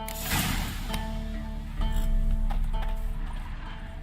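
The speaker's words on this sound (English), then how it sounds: "That's his horse." Horse in The Witcher 3 game world, with soft irregular hoof and movement sounds over a steady game ambience and music bed, moderately loud throughout.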